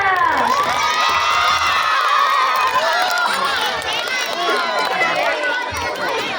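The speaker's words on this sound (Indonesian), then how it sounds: "Tepuk tangan yang meriah" An audience of schoolchildren at an Isra Mi'raj commemoration at an elementary school cheers and shouts loudly and continuously, a dense wall of young voices close by.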